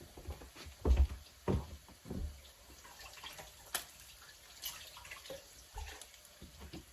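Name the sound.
water running from a tap while rinsing hands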